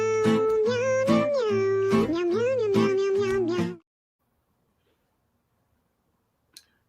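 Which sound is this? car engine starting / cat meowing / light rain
cat meowing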